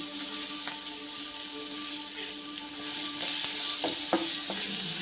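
Finely chopped onions sizzle steadily in a hot pan, a constant frying hiss broken by a few scraping stirs toward the end.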